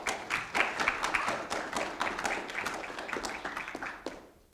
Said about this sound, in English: another round of applause for Christy